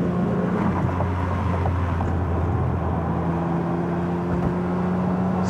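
A 1999 Ferrari 550M V12 runs at around 4,000 rpm on the road, a steady low, smooth engine drone under wind and road noise, continuous with no talking.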